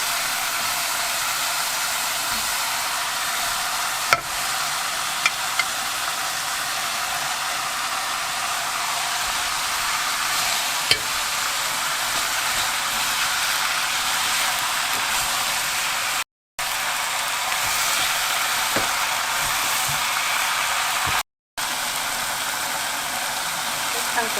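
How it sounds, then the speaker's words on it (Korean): Kimchi being stir-fried in a pan for pureed soybean stew gives a steady, close, continuous sizzling hiss that runs throughout with only brief breaks. "김치도 볶어주시고요"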